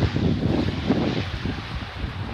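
Wind on a windy but fairly warm day, a steady broadband rush of gusts and microphone buffeting that holds loud and continuous throughout, with no voices.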